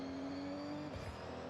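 Toyota Tacoma Forza edition truck in Forza Horizon 6 gives a brief engine note, holding a steady pitch before a quick shift and dip, with a faint tire sound.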